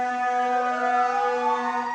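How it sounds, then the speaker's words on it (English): Sirens wail outside on a flooded street during stormy weather, a steady, loud, continuous rising-and-falling tone holding for the whole stretch with no talk over it. "Who's got the sirens?"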